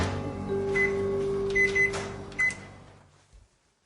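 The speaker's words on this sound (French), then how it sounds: "Dans sa cuisine, le professeur Magda Havas fait chauffer une simple tasse d'eau." A microwave oven heating a cup of water in a home kitchen hums steadily with a low mains drone and faint higher tones, then winds down and falls quiet, ending with a soft click.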